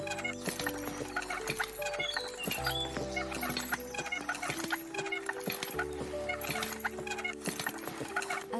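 Horses pull a family carriage through the countryside, their hooves clip-clopping in a steady rhythm under a bed of music, with the occasional jangle of harness.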